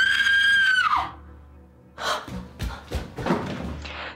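A man cries out in a loud, sustained scream of surprise that breaks off after about a second, followed by a few heavy thumps and bangs.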